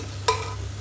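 Onions frying in a pot for Punjabi chicken, a steady close sizzle with a sharp stir or scrape of the spoon near the start, alone without talk.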